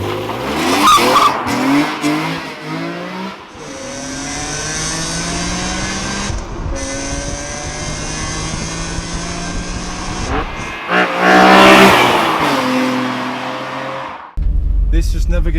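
A BMW E46 M3 CSL accelerates hard, the engine climbing through the gears with shifts between rising notes. Tyre noise can be heard, and the car sounds loud and close throughout.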